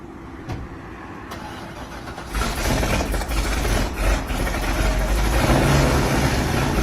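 A car engine runs steadily, one of seven cars used for the school run, with a low rumbling drone that swells louder partway through and holds there, close by and without speech.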